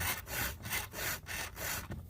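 A file rasps across a saw chain to touch up a dull cutter, several rhythmic back-and-forth strokes about three per second, each a gritty scrape separated by brief gaps, close and clear.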